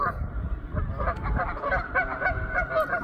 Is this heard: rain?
no